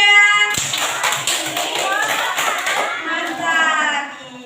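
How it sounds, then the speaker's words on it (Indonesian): Schoolchildren in a classroom clap together for a group of classmates, a quick burst of rhythmic, close claps and taps with a teacher's voice speaking before and after. "Beri tepuk hebat untuk kelompok 3."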